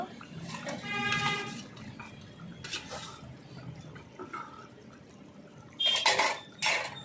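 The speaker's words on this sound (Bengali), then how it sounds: "দেখো উচ্ছে ঝোল ফুটছে" Thin bitter gourd curry broth bubbling in a cooking pot, soft gurgling and simmering with intermittent metallic clinks of utensils and lid, louder clattering bursts toward the end.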